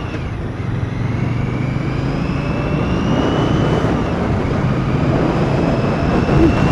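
A 2017 Victory Octane motorcycle engine runs steadily during a test ride, giving a loud, sustained drone that rises slightly in pitch as the bike picks up speed, with rushing wind noise.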